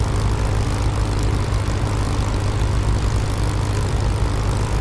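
Spitfire Mk IX piston engine running during startup in the DCS flight simulator, a loud continuous low propeller drone with rough throbbing, heard alone.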